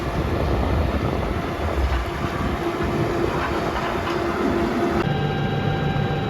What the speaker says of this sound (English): Another lorry wants to get through.